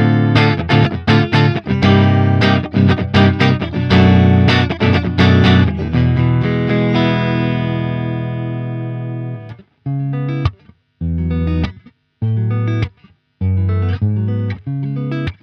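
Warm, soft Ibanez AZ series electric guitar tone from the neck pickup, strummed chords letting a final chord sustain, then brief staccato chord stabs with pauses.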